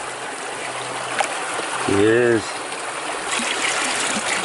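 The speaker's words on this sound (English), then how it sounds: "Once you drain the water out, gotta be careful." Water trickles and splashes steadily as it is drained out of a bucket of material during a day of gold hunting, with a brief spoken remark partway through.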